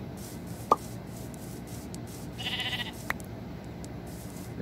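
A Minecraft sheep gives a short, faint bleat amid a steady background of game noise, followed by a few brief clicks and scraping sounds.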